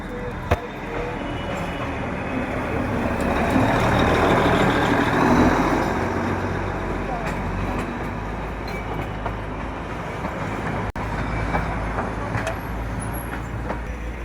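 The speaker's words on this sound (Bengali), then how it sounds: "টয় ট্রেন গেল," The Darjeeling toy train rumbles past in a congested hill town heard from a car, a sustained loud mechanical roar mixed with traffic noise and occasional clanks, with voices faintly present.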